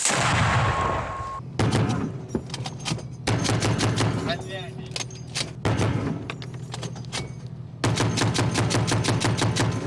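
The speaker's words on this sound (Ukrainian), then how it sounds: "Заключні довгі черги кулеметник загону українських єгерів відрядив у бік окупантів" Long bursts of machine-gun fire, loud and close, rattling in rapid repeated volleys with brief pauses between them.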